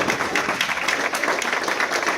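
A church congregation claps in praise during an evening service, a dense, steady wash of many hands sounding close and continuous with no voices standing out.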